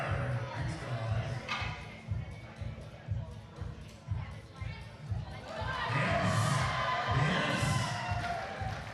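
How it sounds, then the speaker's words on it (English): At a masters women's raw powerlifting championship, a loud audience whoops, yells and cheers in rhythmic bursts that swell toward the end, with thumps from the platform. "This crowd is absolutely screaming for Natasha"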